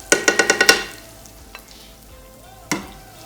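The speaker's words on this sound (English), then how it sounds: "So we'll put this on the pan and let it fry" Vegan food goes into a pan with a quick run of six sharp clatters, then stays fairly quiet with a faint sizzle and one more clack near the end.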